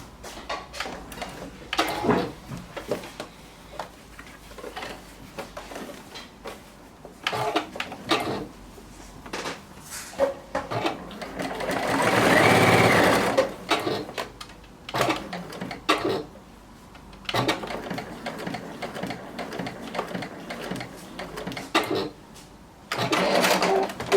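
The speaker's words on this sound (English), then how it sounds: "Let me show you the stitches on the Juki." A Juki sewing machine stitching, its motor running in several bursts of steady mechanical whirring and needle clatter, loudest in a longer run around the middle, separated by short pauses and handling sounds.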